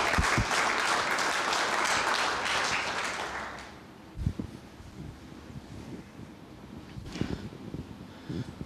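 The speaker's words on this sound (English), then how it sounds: "Let's give him a round of applause." Audience applause for a police sergeant from a community policing unit on Topeka's east side, loud and steady at a public safety meeting for about four seconds, then fading into quiet room noise with scattered knocks and faint shuffling.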